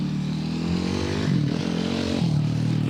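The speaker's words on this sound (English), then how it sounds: "Then we got the ATV guys ripping behind us." ATVs ride and rev close behind a group on a disc golf course: a steady, loud engine drone whose pitch climbs and falls in two throttle surges over a few seconds.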